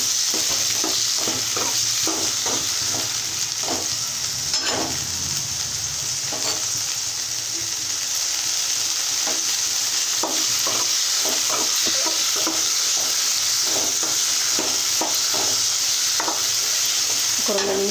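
Tomatoes fry with a little oil in a kadai, a steady soft sizzle running throughout while a spoon scrapes and stirs in repeated clinking strokes.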